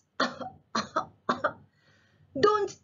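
A performed cough for a read-aloud children's story about germs: three short bursts in a row, then a louder fourth after a brief quiet gap, close and clear with no other sounds.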